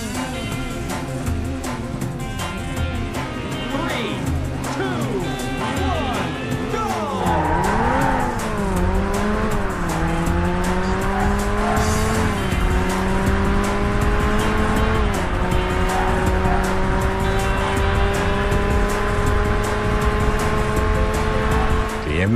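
Race cars roar through Interstate traffic in the PS2 game Burnout, their engines whining in rising and falling pitch with repeated tire squeals and skids, loud and continuous throughout.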